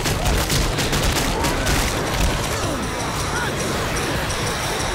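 Pistol shots in Left 4 Dead ring out amid a constant, dense wash of game noise and chaotic sound, with sharp cracks repeating steadily throughout.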